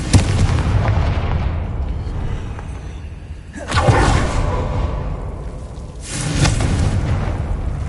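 Confringo blasting spell explosions in Hogwarts Legacy, two heavy booming blasts a couple of seconds apart over a continuous rumbling game background, loud and close.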